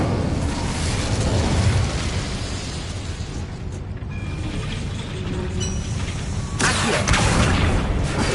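Incendio fire spell cast in Hogwarts Legacy, a sustained roaring burst of flame over a steady rumbling game backdrop, swelling again near the end into a brighter crackling blast.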